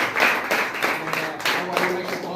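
Classmates in a school classroom clap for a student artist, a short burst of uneven handclaps with a voice talking over part of it.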